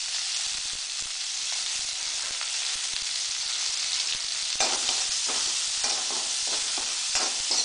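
Green chilli, ginger and curry leaves tempering in hot oil for avial: a dense, close sizzle with rapid crackling pops throughout, growing sharper and more spattery in the second half, with no voices.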